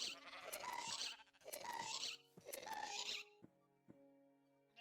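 Sheep from the Minecraft Little Maid Mob mod bleat in three loud, drawn-out calls one after another, followed by a quieter stretch with a few soft clicks and a low steady tone.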